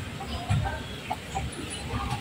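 Chickens clucking softly in short, irregular bursts nearby, with a low background murmur.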